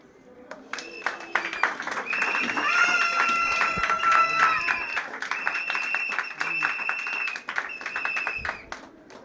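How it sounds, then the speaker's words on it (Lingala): An audience applauds a company representative who stands at a public latrine opening at Gambela market, steady clapping swelling for several seconds with a whistle-like tone over it, then tapering off. "Je demande à M. Kassim de se mettre debout pour l'applaudir."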